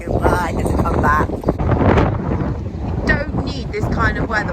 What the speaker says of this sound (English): The windy wetland has returned.